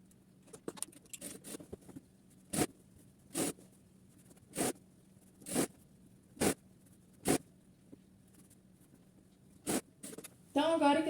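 A sewing machine stitching a curtain seam runs in several short bursts of rapid stitching separated by quiet pauses, close and clear, with light fabric handling between runs.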